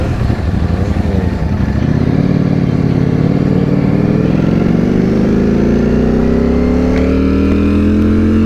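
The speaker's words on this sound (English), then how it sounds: "he seems to be over-revving it and then letting it out, rather than letting out the clutch" A Ducati Streetfighter V4S motorcycle engine revs high and holds, over-revved instead of the clutch being let out, pitch climbing steadily as it strains, loud and close with no talking.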